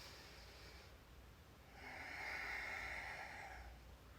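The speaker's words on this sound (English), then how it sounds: "Take another deep breath in." One slow, deep inhale during a yoga sequence, heard close and quiet. The breath swells in the middle, then fades, with no talking.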